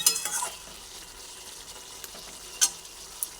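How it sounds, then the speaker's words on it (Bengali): A vegetarian vegetable dish with a little water added is stirred in a pan. A faint sizzle runs under a few scattered scrapes and taps of the spoon, and no one speaks. "এখন এটা নাড়াচাড়া করে দিচ্ছি"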